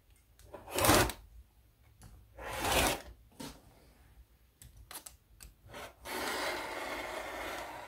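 Cutting tool trims quilt-block fabric on a cutting mat, several separate scraping, rasping strokes, each about a second long, close and fairly quiet, with a longer steady rubbing at the end.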